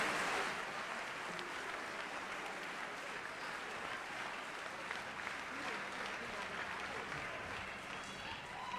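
Steady applause from a graduation audience at the Hawley School ceremony fills the whole stretch, a dense even roar of many hands clapping that holds at a constant level without a break.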